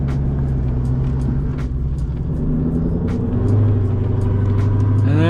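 A Lexus SC400 with a loud aftermarket exhaust rumbles along a desert road, its deep engine drone holding steady and then rising in pitch as it picks up speed.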